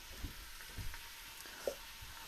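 Onions frying in a pan as the base for a Welsh cawl, giving a faint, steady sizzle close by with a few soft knocks of the pan or utensils.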